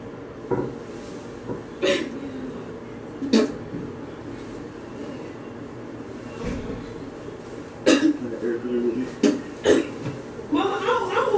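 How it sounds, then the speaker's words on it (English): A person coughs in several short, sharp bursts spread across the stretch, some rough and throaty like retching or throat clearing, close to the microphone in a quiet room. "Why are you coughing up blood?"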